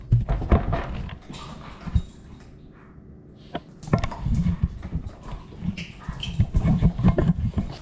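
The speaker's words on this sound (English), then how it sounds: "These dogs are going at it." Hunting dogs on a rabbit hunt scuffle and tussle close by, with bursts of rough growling, snapping and thumping that pause briefly midway and then pick up again loudly.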